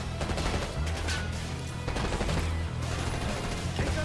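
Shotgun blasts in the Black Ops 6 campaign, a few sharp, booming reports spread across a dense, busy game soundscape with low rumbling beneath, moderately loud and without talk.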